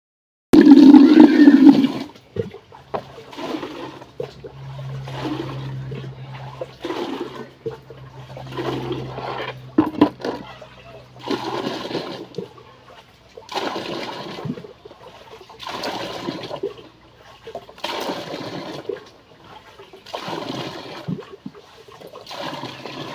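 Tap water runs in repeated bursts as containers are filled at home before mopping the floor, a rushing, splashing flow that starts and stops in steady cycles over the clip.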